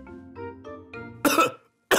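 A cartoon character gives a few short voiced grunts, then two harsh, breathy coughs, the second arriving after a brief pause. Both coughs are close and loud.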